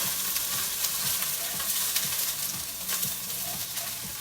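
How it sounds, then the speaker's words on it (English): Onions fry and brown in a pan for sukiyaki, giving a steady, loud close sizzle with soft stirring scrapes throughout and no voices. "You don't want to burn your onions, but you want it to get nice and brown."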